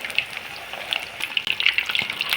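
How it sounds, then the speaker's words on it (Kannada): Bangada mackerel fish kababs deep frying in hot oil, a close, dense crackling sizzle with rapid popping bubbles, steady throughout and no voices. "ಎರಡೆರಡು ಹಾಕ್ಕೊಂಡು ಕ್ಲೀನಾಗಿ ಫ್ರೈ ಮಾಡ್ಕೊಳ್ಳೋಣ"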